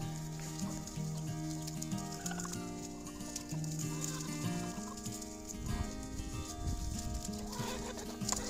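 Chickens on a farm make a busy, continuous layer of clucking and calls that stays fairly loud throughout, with occasional sharper squawks near the end.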